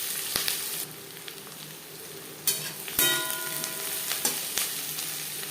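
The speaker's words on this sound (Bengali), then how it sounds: "তিন চার মিনিট পেঁয়াজ হালকা করে ভেজে নেওয়ার পর" Onions frying lightly in oil for a homemade chicken biryani, with a constant soft sizzle and a few sharp clicks and scrapes of stirring scattered across several seconds.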